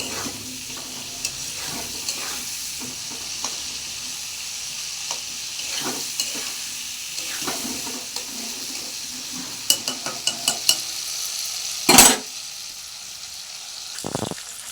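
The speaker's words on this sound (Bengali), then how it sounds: "আমি এখন আলু তুলে দিয়েছি পেঁয়াজের মধ্যে। এবার এগুলো একটু ভাজবো।" Potatoes and onions fry in a kadai, a steady close sizzle under repeated stirring, with a rapid run of metal scrapes and clinks of the spoon against the pan near the end.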